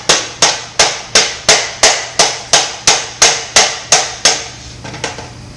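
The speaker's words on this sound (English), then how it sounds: "Give this a good tap, make sure that we're all the way up." A hammer strikes a motorcycle springer fork part on a fork fixture, about a dozen sharp, evenly spaced metallic taps in steady rhythm, close and loud, the last blows fainter.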